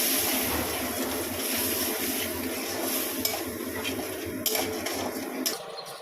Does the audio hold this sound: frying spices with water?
yes